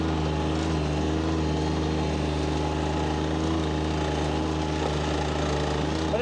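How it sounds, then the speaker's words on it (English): A Bobcat MT120 mini track loader drives across a rough field, its engine holding a steady, loud, continuous droning hum with a constant low throb and no break. "Just putting along, this machine is so smooth."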